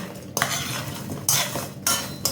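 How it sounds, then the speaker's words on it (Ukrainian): Spoon stirring ingredients in a bowl while making quick lightly salted cucumbers, giving repeated scraping clinks in three bursts with short pauses, close and clear, with no talking. "Гарно розмішуємо."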